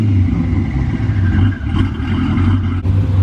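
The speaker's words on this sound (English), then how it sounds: "Andrew's going to give it a few revs here to see how it sounds." Twin-turbo Camaro ZL1 V8 with the exhaust opened, idling with a deep steady rumble and a couple of swelling revs, loud and close, no voices.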